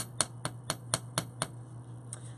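Small hammer blows flatten wire earring pieces on a hard block: six crisp, evenly spaced metallic taps close by, then two lighter taps, over a faint steady hum.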